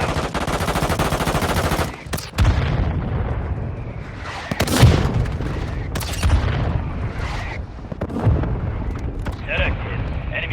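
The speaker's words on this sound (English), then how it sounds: "Mortar strike inbound now." Mortar strike explosions mixed with bursts of gunfire in the video game Warzone Mobile, booming blasts and rattling shots in a dense, loud battle soundscape, with radio-style voices calling out over it.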